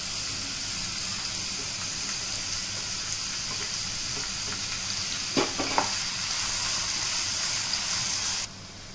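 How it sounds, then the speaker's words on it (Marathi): Onion frying in hot oil until golden brown, a steady, fairly loud sizzle that runs throughout with a couple of brief stirring knocks near the end before it drops away suddenly. "कांदा आपल्याला गोल्डन ब्राउन होईपर्यंत परतायचा आहे।"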